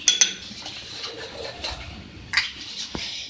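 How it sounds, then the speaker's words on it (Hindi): A spoon clinks against a bowl while stirring green chili, mint and coriander paste into yogurt, giving a few sharp metallic taps over soft scraping, close and moderately quiet. "और मैं इसको मिक्स करेंगे।"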